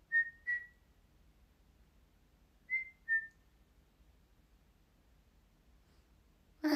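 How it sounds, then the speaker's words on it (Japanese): Two pairs of short, clear whistled notes from a person whistling, a quick double note and then another after a pause, fairly quiet against a near-silent room. "口笛吹きますか"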